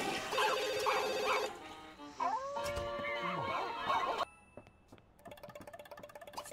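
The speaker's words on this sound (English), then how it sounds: "Oh, now the phone is ringing." A telephone rings with a repeated electronic trill in short bursts, shifting tones and interrupted by other noises, fairly loud and close, with some voice sounds mixed in.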